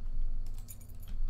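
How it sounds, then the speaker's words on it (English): Car keys jangle and clink in a short burst of bright metallic rattling, close by, over a steady low background hum with no talking. "That's my car keys."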